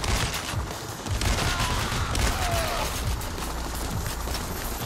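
Gunfire in the video game PAYDAY The Heist, a dense, continuous fusillade of rapid shots rattling throughout, loud and sustained amid a busy, noisy background.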